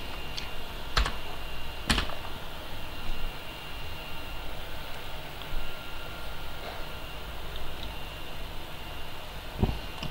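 Typing on a computer keyboard while writing JavaScript code, a steady soft patter of key clicks with a few sharper, louder taps standing out against a constant background hiss.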